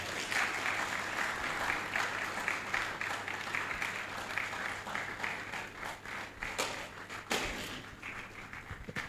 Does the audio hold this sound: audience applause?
yes